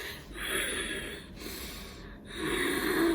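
Slow, forceful breaths pushed out through a constricted throat against resistance, as in positive expiratory pressure breathing, a hissing exhale repeated about three times close to the microphone.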